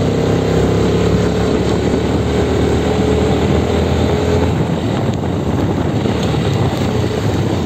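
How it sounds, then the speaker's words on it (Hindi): A Bajaj Pulsar NS 125 motorcycle engine drones loudly and steadily while riding through mountain country, mixed with heavy wind rush and no talking. "बाइक का साउंड सुनो और मजा लो।"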